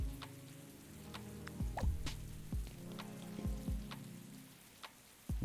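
Soft rain in the farm game Adarin Farm falls as a faint, steady patter, with scattered distinct drops and ticks landing irregularly over a low background hum.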